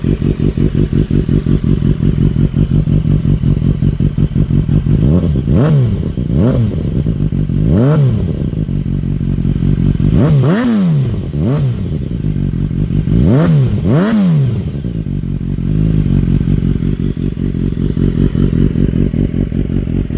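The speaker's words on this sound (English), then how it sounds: "We'll give it a little rev. Let me go over to the exhaust here. It's relatively loud." Inline-four sportbike engine revved at the exhaust pipe, idling with a steady loping pulse and then rising in several sharp, loud blips close to the pipe, settling back to idle between them.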